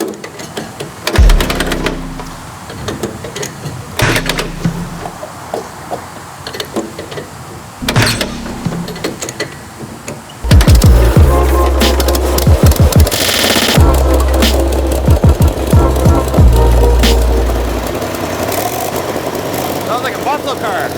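A 1947 Lincoln SA 200 Pipeliner Jr welding machine engine cranks in short clicking attempts, then fires and settles into a loud, steady running rumble; a voice talks over it.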